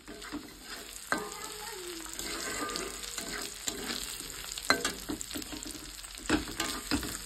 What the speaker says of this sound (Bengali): এই যে পেঁয়াজটা ভাজা ভাজা হয়ে গেছে